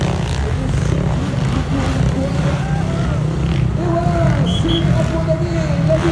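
Racing quads roaring around a rough dirt track, a dense continuous engine drone with rising and falling revs from several machines, under crowd noise and commentary.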